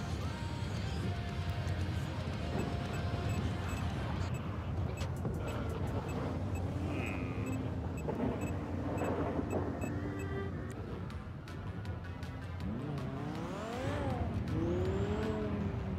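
Engine of a fast tuner car in GTA roleplay drones continuously, revving and shifting with brief rising whines, while someone talks intermittently over the driving noise.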